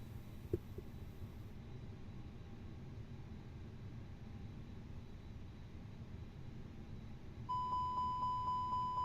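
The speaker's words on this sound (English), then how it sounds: "So he's done all the fire tests of engine 1. That's where you can hear the beeping noise." Repeated warning beeps sound in an Airbus A320 cockpit during an engine 1 fire test in Microsoft Flight Simulator 2020, about five evenly spaced tones near the end over a steady cockpit hum and faint background noise.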